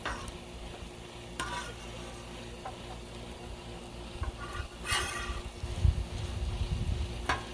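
Potato pieces and vegetables cooking on a Blackstone griddle, a steady sizzle with spatula scrapes and taps against the flat top, louder clatter near the end.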